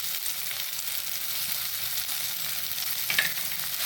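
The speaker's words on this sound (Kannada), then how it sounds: "8 ಹಲಸಿನ ತೊಳೆಗಳನ್ನು ಹೀಗೆ ತುಪ್ಪದಲ್ಲಿ ಫ್ರೈ ಮಾಡಿಕೊಳ್ಳೋಣ" Eight pieces of jackfruit sizzle steadily in ghee for a Karavali-style jackfruit sweet, a close, continuous hiss with a brief stir or clink near the end.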